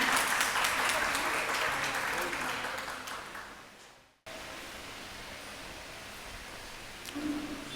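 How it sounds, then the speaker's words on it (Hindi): Audience at an award ceremony applauding loudly and steadily, the clapping fading out after about four seconds, followed by a quieter, diffuse background hum. "तालियां हो जाएं।"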